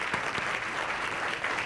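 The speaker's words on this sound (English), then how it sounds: "I want to give you guys a round of applause for your great leadership." Brief burst of steady audience applause at an achievement gala, a dense wash of many hands clapping at moderate volume with a few louder individual claps near the start.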